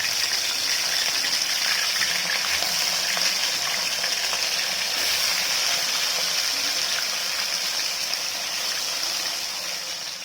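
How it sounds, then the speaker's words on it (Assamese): Fish sizzles loudly in hot oil in a pan for a mustard fish curry, a dense, steady crackling hiss that carries on unbroken and fades slightly at the end. "মোৰ তেল গৰম হৈ গ'ল, মই মাছটো ভাজি লওঁ।"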